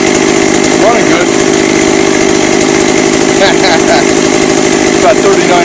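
A McCulloch chainsaw idles on a cold morning after a cold start, a loud, steady buzzing engine drone with slight roughness throughout.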